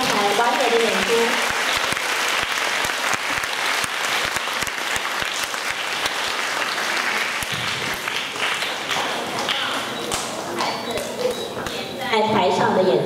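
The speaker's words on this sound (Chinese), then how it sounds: "所以是不是让我们一起为今天这么演出精彩的孩子来一点掌声，鼓励他们刚才完美的演出" Audience applause after a children's school music performance, a full hall clapping steadily and loudly for over ten seconds, with a voice heard over it.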